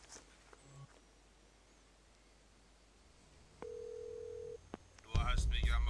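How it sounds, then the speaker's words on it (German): A telephone in the horror adventure game Phantasmagoria 2 being dialed: scattered short tones, then a sustained steady dial or ring tone for about a second, followed by a louder burst of game sound at the end. "Aber er traut sich trotzdem ans Telefon und ruft jetzt den toten Bob an."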